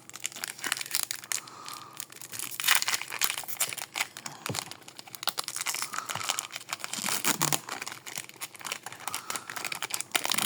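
A Karlov trading card booster pack torn and crinkled open by hand, with continuous close crackling and crumpling of the foil wrapper for several seconds, no voices.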